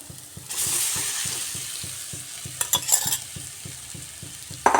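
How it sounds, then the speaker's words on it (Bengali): Fried potatoes and boiled eggs are stirred with spices in a hot pan, a steady close sizzle under repeated rhythmic scraping strokes of the spoon, with a few sharper clinks near the end. "এভাবে আলু ডিম দিয়েও একটু মশলার সাথে ভালোভাবে কষিয়ে নিচ্ছি"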